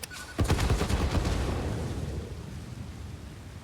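Cannons fire in the video game Satisfactory, a burst of heavy booming blasts that lands together and rolls into a long fading rumble, with no voices.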